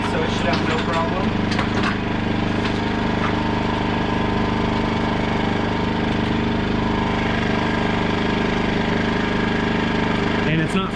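MaXpeedingRods MXR generator engine running steadily up close, a loud, constant droning hum with a rough mechanical buzz throughout, under some talk.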